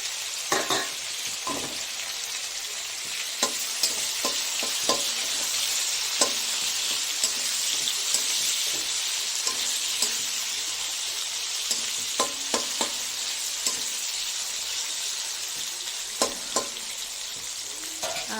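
Tomato and green chili frying in a pan of oil for a fish curry, a steady bright sizzle running throughout with scattered sharp pops and spatula taps, close and continuous with no voices.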